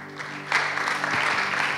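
Audience at an anger-management workshop bursts into applause, a steady wash of clapping from many hands that swells and holds.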